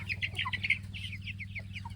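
Chickens in a coop with newly moved young laying hens, a burst of close, rapid clucking and chirping over a low steady hum, with no talk.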